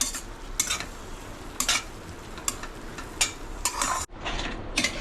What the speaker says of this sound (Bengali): এইভাবে মেশাতে থাকবেন, দিয়ে মশলাটা কষতে থাকবেন